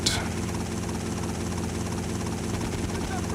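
Helicopter with a magnet attachment flying in Grand Theft Auto: Vice City Stories: a steady, dense rotor and engine drone holds at an even level throughout, with a brief brighter burst at the very start.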